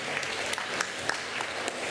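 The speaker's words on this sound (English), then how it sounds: "Please give them an applause." Audience applause for two speakers at an arts workshop, a steady patter of clapping from a modest crowd filling the short stretch without voices.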